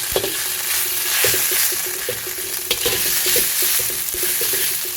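White watermelon rind stir-fried with vegetarian oyster sauce in a hot pan, a continuous close sizzle with regular scraping and clinking of a spatula stirring, no voices.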